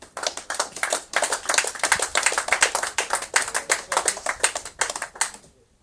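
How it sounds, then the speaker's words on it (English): A small crowd claps at a kart racing podium presentation, a quick, crisp patter of hands that runs steadily for several seconds before stopping abruptly. "Let's give a big round of applause to Philip Henderson."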